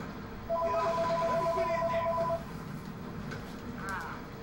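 A video game phone ringtone trills in a steady two-tone electronic pattern for about two seconds over Halo 3 battle noise, then stops while game sounds continue.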